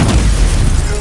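A loud, close magical fire blast from the Incendio spell in Hogwarts Legacy, one heavy booming burst filling the whole second with deep rumble.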